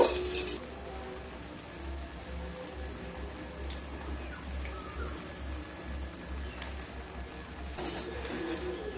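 Spices and a little turmeric are stirred in a kadai for kadai paneer, giving a soft, steady sizzle that sounds almost like rain, with occasional spoon scrapes over a low hum.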